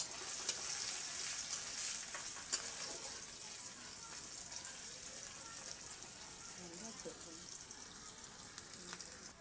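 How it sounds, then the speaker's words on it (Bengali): Onion frying in hot oil for a fish dish, a soft steady sizzle with faint crackles and occasional light clinks, fairly quiet and continuous throughout. "তেল গরম হয়ে গেছে, এর মধ্যে আমি আগে পেঁয়াজটাকে ভেজে নেব।"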